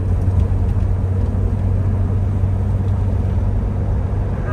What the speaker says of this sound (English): just a lot of fun to listen to that straight six, roll the gears